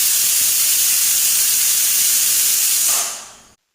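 A pressure cooker on a medium flame, cooking goat head soup, lets out a loud, continuous steam hiss and whistle that holds steadily for about three seconds, then fades and cuts off abruptly.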